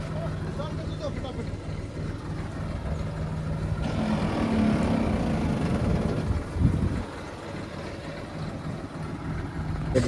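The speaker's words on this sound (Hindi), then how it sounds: "ये रहा हमारा ट्रैक्टर।" A farm tractor runs in a field with a steady low engine rumble throughout, swelling slightly midway, while a person talks over it.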